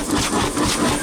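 A Taylor Iron Works steam engine runs with no exhaust pipe fitted, giving a brief, rhythmic chuffing and hissing pulse close by.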